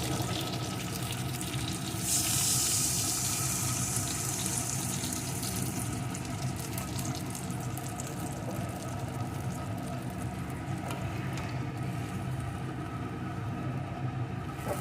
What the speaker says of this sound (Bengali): ভালো করে ভেজে নিয়েছি এখন এর ভিতরে দিয়ে দেবো পরিমাণ মতো জল